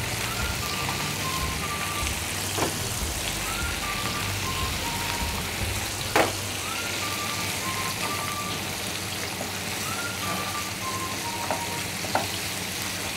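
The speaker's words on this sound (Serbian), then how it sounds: "Dok se šaran prži" Carp sizzles steadily in a frying pan of hot oil, a continuous soft crackle with occasional sharper pops, heard alone at moderate volume.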